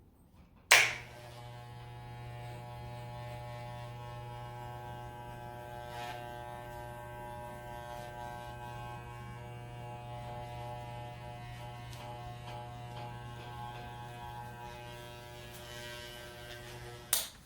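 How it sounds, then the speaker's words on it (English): A professional hair trimmer runs with a steady close electric buzz and hum while cutting along the neckline, starting with a click and ending with another click. "we are going to continue to use the professional trimmer here"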